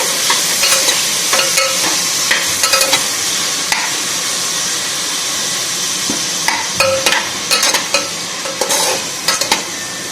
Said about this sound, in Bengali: পেঁয়াজটা একটু ভাজা হয়ে যাবে, এক দু মিনিট নাড়িয়ে নিয়ে